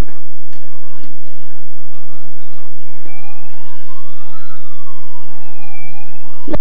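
A child's toy car plays a warbling electronic siren, rising and falling tones that fill the latter half of the clip, preceded by small ticking clicks and faint background hum, close and fairly loud.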